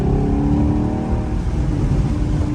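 A loud Chevrolet Camaro SS exhaust rumbles and revs in a steady, throaty drone with choppy, crackling pulses, close by and uninterrupted.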